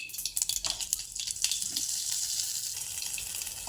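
Stuffed brinjals frying in oil in a kadhai, a soft crackling sizzle with a few sharp pops early on, settling into a steady hiss.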